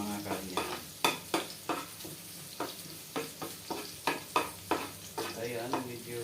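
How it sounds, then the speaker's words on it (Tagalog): Shrimp and onion fry in a hot pan with a steady sizzle, broken by about a dozen sharp scrapes and clinks as a utensil stirs the food against the pan. "Saglit na naman maluto guys. Hipon lang kasi ito eh,"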